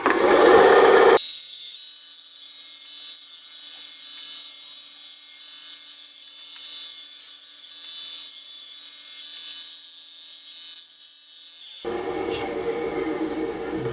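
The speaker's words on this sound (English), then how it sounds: "next thing we're doing is just rough cutting the edges off. Just come to our handy dandy bandsaw." Bandsaw rough-cutting the edges off Kydex sheets: a steady, close, high-pitched whine with a light rasping edge running continuously for about ten seconds, bracketed by brief louder shop noise at the start and end, with no talking.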